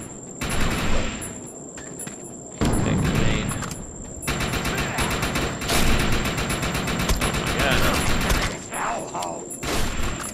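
Rapid bursts of automatic gunfire in the shooter game Defiance 2050, loud and dense with brief pauses between volleys, under a steady high whine, with no voices in the clip.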